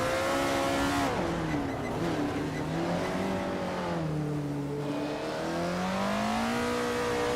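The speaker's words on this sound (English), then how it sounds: "Brando Buster is driving a 1970 Ford Mustang Boss" A 1970 Ford Mustang Boss engine in a video game race, droning steadily with rising and falling pitch as it accelerates and shifts, loud and close throughout with no talk.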